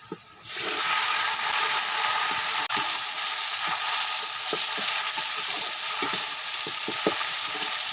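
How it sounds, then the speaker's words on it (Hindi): Water poured into a pan of golden-brown fried onions erupts into a loud, sudden sizzle that settles into a steady, close hiss, with a few light stirring clicks. "अब इनमें हम थोड़ा सा पानी डालेंगे"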